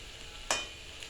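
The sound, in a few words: vegetables frying in pan with salt and turmeric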